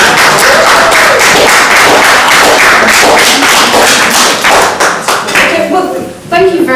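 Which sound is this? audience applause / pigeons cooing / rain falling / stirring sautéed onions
audience applause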